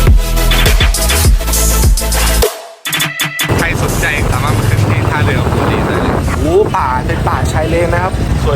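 A motorboat at a river pier in Thailand drones loudly as its engine runs, with wind buffeting the microphone and a short dropout partway through. Voices talk over the engine.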